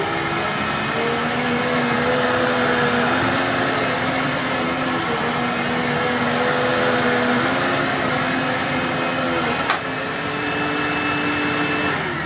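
A Dirt Devil Purpose For Pets vacuum cleaner runs continuously, a loud steady whine with a droning motor tone and airflow roar, a small click near the end, no voices.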